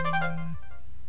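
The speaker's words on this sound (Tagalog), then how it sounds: "Niya may nag-text." A mobile phone's text message alert chimes once, a short bright melodic tone with a low sustained note underneath that cuts off after about half a second, loud and close with no talking.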